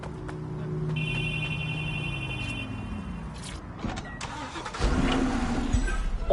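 A car engine runs and revs in the video game Watch Dogs: Legion, a mid-pitched drone that rises and falls alongside clunks and electronic tones, growing louder toward the end.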